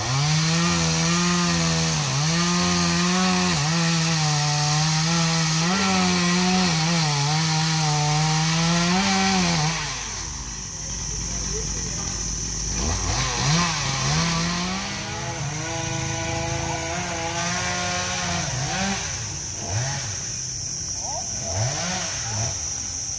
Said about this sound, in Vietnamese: và ba tiếp tục cưa cây thứ ba.